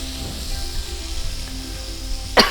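Garlic potato masala deep roasting in a pan gives off a steady, low sizzle with a few soft stirring scrapes and one brief louder clatter near the end. Nobody speaks.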